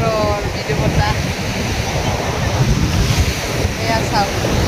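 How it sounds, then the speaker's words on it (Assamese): Gentle evening sea breeze and waves at Chennai beach: continuous surf wash with wind rumbling across the microphone, a steady, fairly loud roar with no clear speech. "সাগৰৰ পাৰৰ মৃদু বতাহ"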